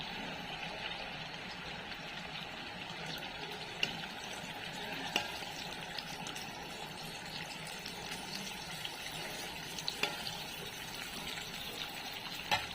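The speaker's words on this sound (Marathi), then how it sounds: "आता आपल्याला अंडी फोडलेली टाकायचे तेलात हे पण चांगलं भाजून घ्यायचं" Village-style eggs cracked into hot oil for egg bhurji sizzle steadily in a pan, a soft continuous frying hiss with a few faint clicks and scrapes, fairly quiet and without talk.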